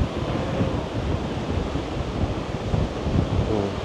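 Strong waves surge and break steadily on a Boracay beach, a dense roar of surf with wind gusting across the microphone and no voices.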